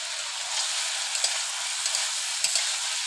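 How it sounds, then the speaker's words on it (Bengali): Fried soybean chunks tumble into a pan of spiced potatoes frying in oil, producing a steady hiss of sizzling with a few soft stirring scrapes, close and continuous. "এখন দিয়ে দেবো সয়াবিন ভেজে রেখেছিলাম"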